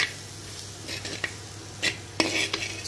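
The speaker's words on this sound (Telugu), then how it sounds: "కొంచెం మనం తక్కువ అగ్గి మీద వేగించుకోవాలండి" Bitter gourd fries over a low flame under a soft, steady sizzle, while a utensil scrapes and taps the pan in a few sharp, close strokes.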